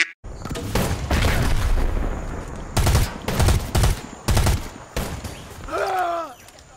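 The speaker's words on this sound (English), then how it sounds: "Oh, that's a grenade" Gunfire and a booming grenade blast in Predator: Hunting Grounds, loud and close, coming as several heavy bursts separated by short gaps, with a voice speaking briefly near the end.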